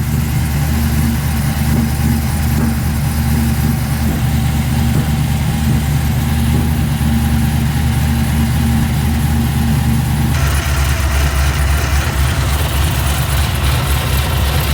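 Modified car engine running at a Summernats car show, a steady loud low rumble that continues without a break, its tone shifting partway through.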